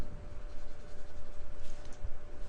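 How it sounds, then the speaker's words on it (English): A board being erased, a loud, continuous, rhythmic scrubbing and rubbing close by, with a few knocks as the eraser moves over the surface. "I'm going to erase this"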